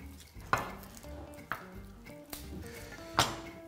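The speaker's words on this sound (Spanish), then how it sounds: "voy a picar unos cuantos ajitos, los que habéis visto en la lista de ingredientes" A knife cuts garlic cloves into thin slices on a cutting board, making a few sharp, separate taps spaced about a second apart, close-up over a low background with a faint tonal hum.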